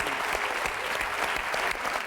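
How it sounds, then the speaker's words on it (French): Loud, dense applause from a studio audience at a French TV game show, a steady unbroken wash of clapping that runs the whole time with no talk over it. "applaudit fort, Lucie"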